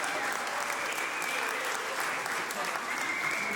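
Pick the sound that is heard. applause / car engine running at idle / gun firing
applause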